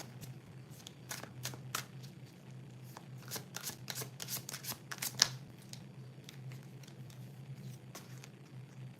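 Tarot cards being shuffled during a live reading, a rapid series of crisp riffling flutters and soft slaps close by, with a steady low hum underneath and no talking.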